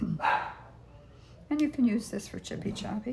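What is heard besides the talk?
dogs barking in the house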